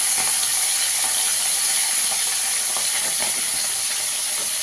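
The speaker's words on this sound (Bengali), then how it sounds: "মাছগুলো ভেজে নেবো ভালো করে।" Fish spits and crackles in hot oil in a wok, a dense continuous sizzle with a bright hiss and scattered pops, loud and close, no voices.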